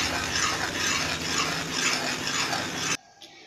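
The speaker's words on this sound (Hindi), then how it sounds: "चम्मच आप हिलाते रहिएगा" A spoon stirs homemade liquid glucose as it cooks in a pan, making a steady, continuous scraping and bubbling texture for about three seconds before it cuts off abruptly into near silence.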